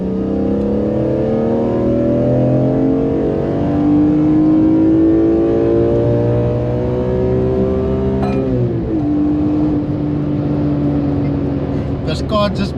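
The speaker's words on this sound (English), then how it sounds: "Most importantly, she revs." A BMW E46 M3 engine revs hard and climbs steadily toward 8000 RPM. Its loud, rising harmonic howl fills the clip, falls away sharply, then starts building again, with a few clicks near the end.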